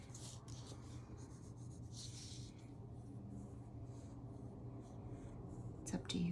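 A pencil scratches and rubs across paper, drawing stars in short strokes, close up and soft under a low room hum, with faint voice sounds at times.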